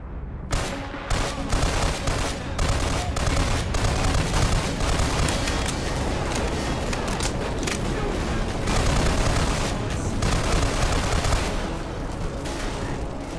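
Shotgun blasts and heavy gunfire from the video game Black Mesa: Blue Shift, a dense continuous barrage of loud booming shots and explosions with a voice faintly underneath.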